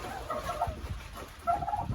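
Hens cluck and murmur inside a backyard homestead chicken coop, a few close, uneven bursts of clucking separated by short pauses, with no talking.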